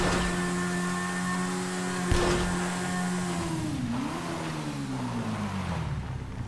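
A video game car engine hums at a steady idle, then its pitch wavers and sags downward as it stalls and winds down.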